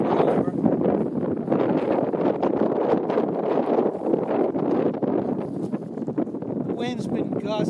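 Gusty wind blows outdoors in the northeast while a dual line stunt kite is set up, a loud continuous rumble on the microphone under a person talking.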